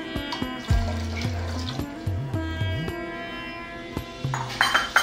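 A bowl that held ginger is rinsed and a little water added, with running and splashing water close up, short pours and gurgles in uneven bursts, no talking.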